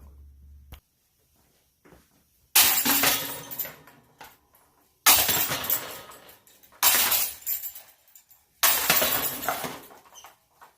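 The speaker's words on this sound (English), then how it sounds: "Now granted, you're gonna get some noise, there's chains here, but it doesn't have that really loud ring" A disc golf disc striking a basket with muffled, quieted chains, several separate hits each giving a short rattling crash that fades, close and fairly loud, with quiet gaps between throws.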